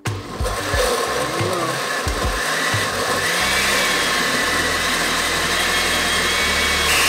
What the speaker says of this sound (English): Now to blend until smooth.